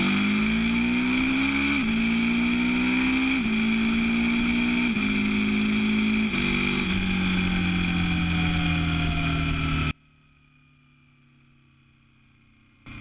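KTM 790 Duke motorcycle accelerating hard through several quick-shifted gears, each rising engine note cut by a brief dip, loud and continuous for about ten seconds before the sound drops abruptly to quiet background.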